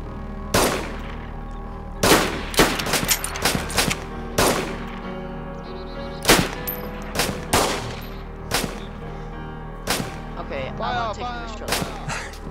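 Bursts of rifle gunfire in the survival game DayZ, a dozen or more sharp, loud cracks in irregular clusters, some in quick doubles and triples, with brief echoing tails between shots.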